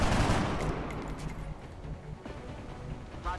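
Soldiers fire in an XCOM-style game, a burst of gunfire that opens loud and close and then fades into a rattling tail of scattered shots.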